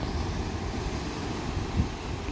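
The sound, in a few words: waves crashing on rocky coast, East Coast Trail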